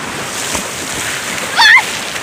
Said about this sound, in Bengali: দেখুন সমুদ্রে আজকে প্রচণ্ড ঢেউ আছে।